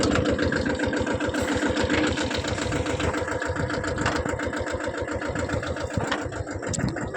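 A mini tractor engine runs in a sesame field with a steady, close, rapid chugging throb that continues unbroken, with no talk.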